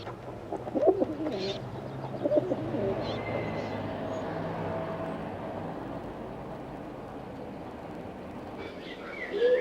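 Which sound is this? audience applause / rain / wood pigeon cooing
wood pigeon cooing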